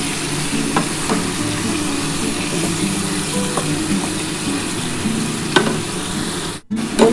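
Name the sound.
stir-frying spices for chicken kosha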